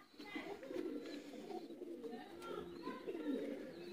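Pet pigeons coo softly and steadily, a faint, continuous low warble close by with a few quiet bird chirps over it and no clear voices.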